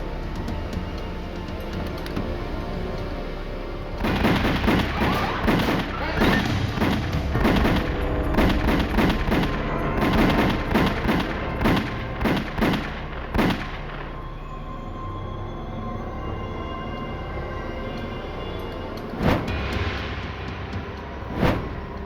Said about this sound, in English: Paul Castellano and Tommy Bilotti lay outside the car, each shot by 6 bullets.